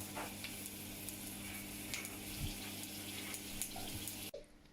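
Spanish peppers fry in a pan, a steady close sizzle with small pops and crackles throughout, then cut off abruptly near the end.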